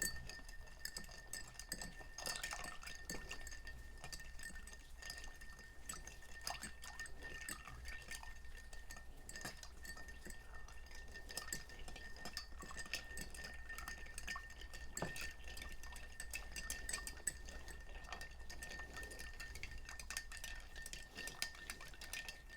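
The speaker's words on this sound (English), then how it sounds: "Okay, now we're going to give this a stir." Ice clinks steadily against glass as a cocktail with Luxardo maraschino cherry liqueur is stirred with a spoon, a quiet, continuous rhythmic tinkling that is close and heard alone.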